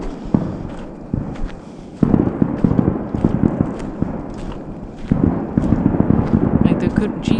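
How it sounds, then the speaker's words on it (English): Fireworks crack and pop in bursts out in the woods at night, sharp irregular bangs and crackling under loud background music and people shouting. "it's kind of hard to be louder than the fireworks"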